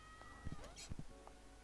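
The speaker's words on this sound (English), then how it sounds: "All those cat sounds" Brief cat meows from the video game Horace, a few short, faint mewing calls over quiet background.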